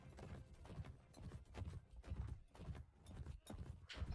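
Horse hooves clip-clopping in the Mount & Blade: Warband video game, a quick irregular run of muffled hoofbeats heard faintly amid a busy background.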